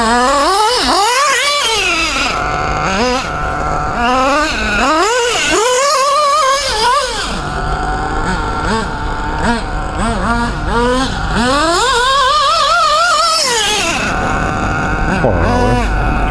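A small high-revving RB C6 nitro engine in a Kyosho MP777 RC car screams loudly, pitch rising and falling repeatedly as the throttle is blipped and held, with no talking.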